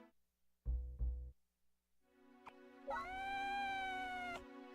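A person imitating a cat, first two short clipped mews, then a long, drawn-out, tonal meow that rises and holds before cutting off, fairly faint and close.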